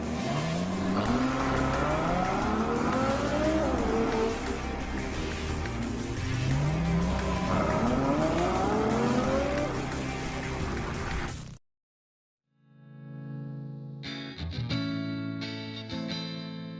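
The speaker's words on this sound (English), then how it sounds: "The FF, meaning Ferrari 4, has the largest capacity road-going Ferrari engine ever produced." A Ferrari FF road car drives past under a dense music bed, its engine note rising and falling in repeated sweeps like gear changes, then a brief silence before separate music takes over.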